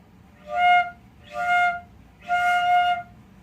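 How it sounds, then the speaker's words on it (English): Three sustained Japanese shakuhachi flute tones, each with two pitches sounding together, played one after another with short breathy gaps between them. "So hopefully you can hear those 2 notes playing at the same time."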